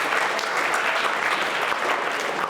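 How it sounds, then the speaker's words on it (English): A summer camp audience gives another round of applause for two presenters, loud, dense and continuous clapping that fills the whole stretch without a break. "Another round of applause."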